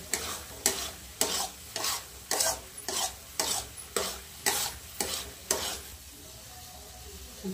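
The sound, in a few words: stirring Raksha Bandhan sweet mixture in pan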